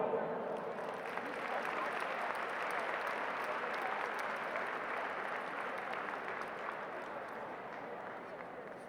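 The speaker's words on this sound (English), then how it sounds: "Give them one more round of applause" A large dinner audience applauds steadily in a big hall at the 59th FFF Dinner, a dense, continuous wash of clapping that fades slightly toward the end.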